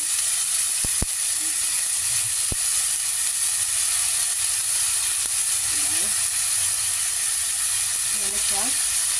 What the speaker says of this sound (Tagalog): Ilalagay na natin ang ating luya.